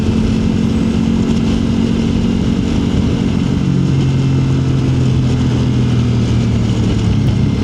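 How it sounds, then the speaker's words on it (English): A motorbike riding up a snowy mountain road, its steady mid-pitched engine drone shifting in tone as it passes, heard over constant loud road and wind noise. "There's a motorbike coming up, look."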